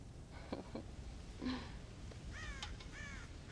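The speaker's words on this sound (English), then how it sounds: "God damn crows!" Crows caw several times at a farm in the Red Dead Redemption video game, with harsh, moderately distant calls in uneven groups over a soft outdoor ambience.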